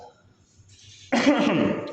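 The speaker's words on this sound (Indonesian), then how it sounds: "Maaf, ini saya sedang batuk dan sudah 3 minggu kayak nggak selesai" After a near-silent start, a single rough cough from a person with a lingering cough bursts out close by during a sermon, lasting under a second.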